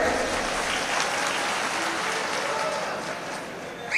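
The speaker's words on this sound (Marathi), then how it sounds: "मला वाटतं एकदा गोविंदाजींसाठी जोरदार टाळ्या झाल्या पाहिजेत" Loud, sustained applause from a large crowd at an outdoor election rally, cheering for the film star Govinda; dense, steady clapping fills the whole stretch, swelling slightly near the end.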